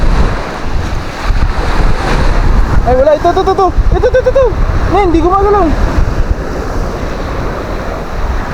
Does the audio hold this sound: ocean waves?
yes